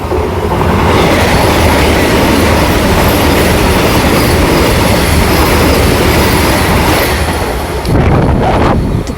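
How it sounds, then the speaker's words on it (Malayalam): A Vande Bharat express train roars past close by at Edava, a loud, steady rush of wheels and air with rattling clatter that eases slightly near the end. "ഇത് മെമു അല്ല വന്ദേ ഭാരതാണ്"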